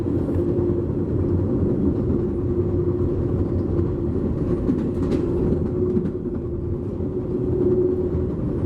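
Steady rumbling ride inside a private railcar, the Tioga Pass, rolling on a train out of Los Angeles Union Station, with a continuous low drone and faint intermittent clicks from the rails.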